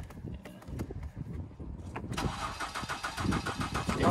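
Ford Escape engine cranking with rapid chugging turns from the starter, then catching around halfway into a louder, steady running roar up close.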